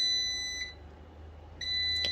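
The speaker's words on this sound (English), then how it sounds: "annoyingly this beeps 5 times" A Costco dual basket air fryer emits a piercing high-pitched electronic beep, close and loud, sounding at the start, pausing briefly over a low hum, then resuming toward the end with no voices.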